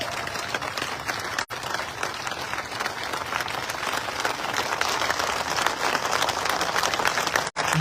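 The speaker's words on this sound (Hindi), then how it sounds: "आपकी 1 मिनट तक गड़गड़ाती हुई तालियां महाराणा प्रताप जी के मस्तक पर" A large crowd at a gathering honouring Maharana Pratap gives sustained, thunderous applause, dense and loud clapping rolling on steadily without a break.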